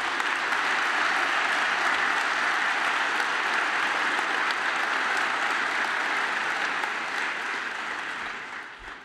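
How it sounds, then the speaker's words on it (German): The Hertha BSC members' assembly in a large hall gives a long, even round of applause that holds steady for several seconds and then fades gradually toward the end. "Vielen Dank für euren freundlichen Applaus"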